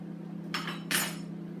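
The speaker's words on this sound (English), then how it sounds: "I'm just chopping up my sausages." Two brief broadband knife-on-board chops at sausages, the second a little louder, over a steady low kitchen hum with nothing else happening.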